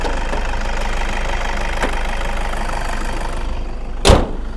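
A 2010 Toyota Innova V Matic with a 2KD diesel engine idles close by with a steady, gruff knocking clatter. It holds constant throughout, with a sharp louder knock or clunk near the end.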